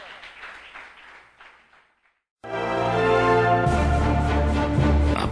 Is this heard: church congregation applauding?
yes